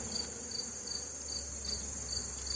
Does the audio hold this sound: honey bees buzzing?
yes